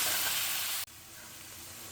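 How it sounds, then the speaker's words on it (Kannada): Chilli powder, coriander powder and garam masala being stirred into a hot tempering for dal khichdi, a steady close frying hiss with scraping, which cuts off abruptly and resumes quieter before a short sharp clink at the end. "ಈ ಮಸಾಲೆ ಎಲ್ಲ ಮಿಕ್ಸ್ ಮಾಡ್ಕೊಳ್ತಾ ಇದ್ದೀನಿ"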